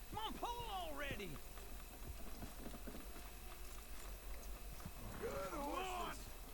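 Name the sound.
horses neighing and hooves clopping in Red Dead Redemption 2 video game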